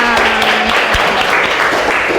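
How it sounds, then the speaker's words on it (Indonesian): A room full of people claps loudly and continuously for a couple of seconds before cutting off. "Oke, tepuk tangan untuk kalian semuanya."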